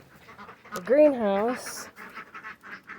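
A duck gives a single drawn-out quack up close at a backyard duck run, with a person talking around it.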